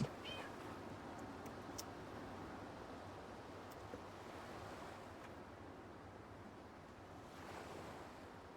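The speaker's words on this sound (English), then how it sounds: "I hear the cat." A cat meows faintly a few times early on, thin short cries over a steady rushing, wind-like background that fills the whole quiet stretch.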